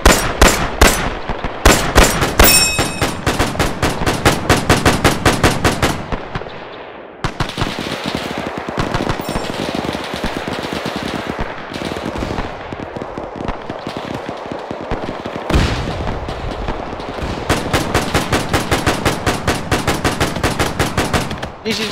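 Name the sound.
gunfire in the video game ARMA 3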